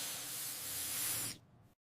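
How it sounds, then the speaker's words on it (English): Air freshener aerosol can sprayed in one continuous hiss of about a second and a half, then cut off into silence. "I spray air freshener."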